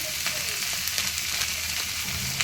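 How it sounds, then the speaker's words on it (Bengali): Spices are stirred and fried with amudi fish and winter vegetables, a constant close sizzle with scraping strokes of a spoon against the pan, no voices. "এবার এটাকে ভালোভাবে নাড়াচাড়া করে নিচ্ছি"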